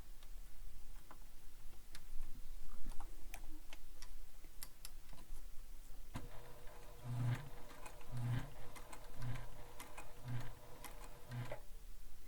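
A sewing machine stitches through folded webbing on a backpack, starting after a stretch of quiet handling noise and then running as a steady, close mechanical hum with a regular knocking rhythm for about six seconds before stopping.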